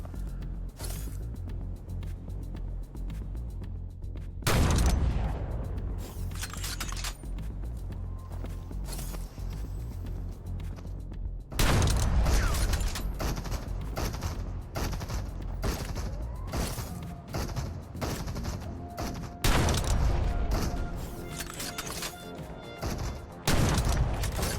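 Heavy shots of sniper gunfire in the VR shooter Crossfire: Sierra Squad crack out as three loud impacts spaced several seconds apart, over a constant bed of scattered gunfire, footstep-like thuds and battle noise.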